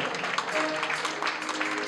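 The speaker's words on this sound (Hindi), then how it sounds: "कंजूसो एक बार तालियां बजाओ।" An audience claps together at a Jain Chaturmas kalash sthapana ceremony, producing a dense, steady patter of many hands that fills the whole moment at an even loudness.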